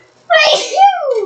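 A single sharp sneeze bursts out suddenly after a quiet moment, close and loud, followed by a voiced trailing exhale in a casual indoor setting.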